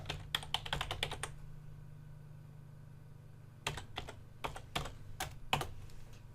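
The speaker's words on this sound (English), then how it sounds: "Now can I type it again?" Bursts of quick keystrokes on a computer keyboard, close and fairly quiet, in two clusters separated by a few seconds of silence, with a low steady hum underneath.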